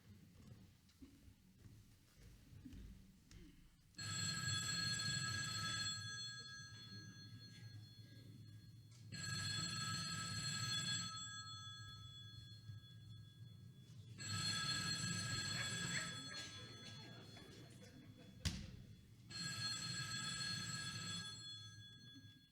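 A telephone bell rings in four long, loud bursts of about two seconds each, evenly spaced by pauses of quieter background, with no voices between the rings.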